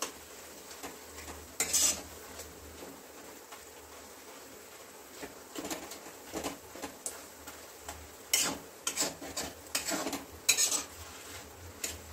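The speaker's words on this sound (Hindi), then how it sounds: "केला को तो पाँच मिनट तक स्लो फ्लेम पर स्लो टू मीडियम फ्लेम पर इसी तरह फ्राई करेंगे" Raw banana being stirred and fried in a pan over a low to medium flame, heard as quiet scattered clinks and scrapes of a spatula against the pan over a faint, steady background.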